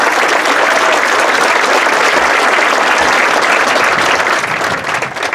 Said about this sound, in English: How about a round of applause for the freshmen and rookies?